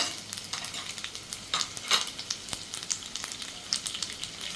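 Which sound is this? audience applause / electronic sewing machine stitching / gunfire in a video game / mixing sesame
mixing sesame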